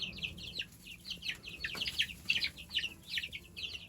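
Lavender Orpington and olive egger hens cluck and chirp in a flock, with repeated high, fairly soft calls overlapping over low background noise and no talking.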